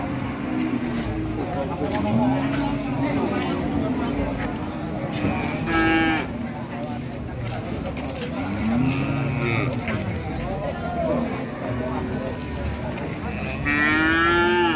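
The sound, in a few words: Simmental cattle mooing at a cattle market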